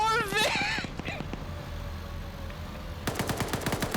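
Video game gunfire, rapid bursts of shots at the start and again near the end, mixed with a musical tone and background game sound.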